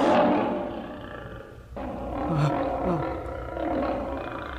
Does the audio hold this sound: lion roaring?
yes